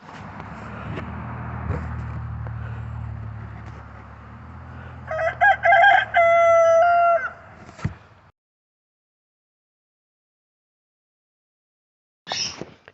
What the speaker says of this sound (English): And our rooster.